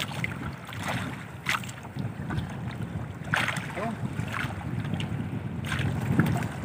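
A small boat moves across open water in wind, with continuous rushing and sloshing under gusty wind noise, and faint voices now and then.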